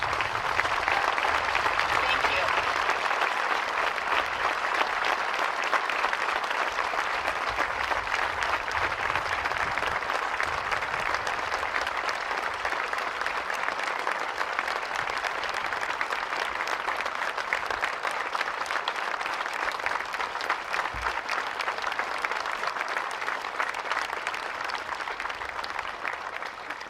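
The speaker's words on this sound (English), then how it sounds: "get a round of applause and some cheers from you all" A crowd at an outdoor garden dedication ceremony gives a long, sustained round of applause with cheering, steady and even throughout, while a voice speaks briefly.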